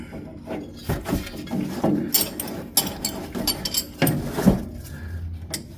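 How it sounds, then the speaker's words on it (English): A ratchet with a 9/16 deep socket clicks and clunks against a lower control arm bolt on a 1965 Chevelle, a run of close, irregular mechanical ratcheting with metallic knocks and no speech. "So 9/16 socket, deep socket for the bottom."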